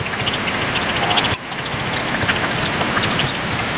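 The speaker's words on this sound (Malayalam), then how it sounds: "മഴ തകർത്ത് പെയ്യാണ്" Heavy rain pours in a dense, steady hiss, with a few brief knocks and splashes nearby and no voices.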